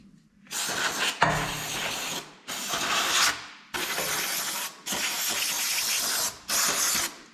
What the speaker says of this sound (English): I'm gonna rinse some of that sand and crap off there.